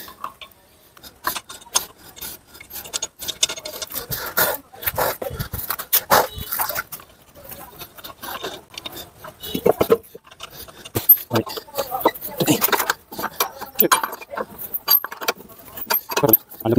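Metal lug nuts on a Nissan Sunny wheel being fitted and tightened, with irregular clinking, ratcheting and jangling clicks coming close and loud in bursts, while a person talks in the background.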